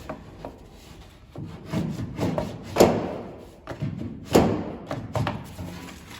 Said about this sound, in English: I just took my ball peen hammer here and just went along